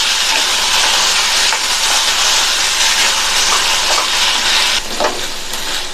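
Cauliflower sautés in masala over a high flame, a loud continuous sizzle and hiss with occasional scraping stirs, close and unbroken by any voices.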